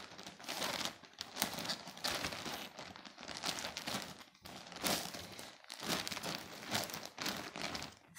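A soft plastic bag, the kind pajamas are sold in, is handled and crinkled while packing a winter maternity bag for mother and baby. Steady, close rustling crackles continue throughout, with a few short pauses and no talking.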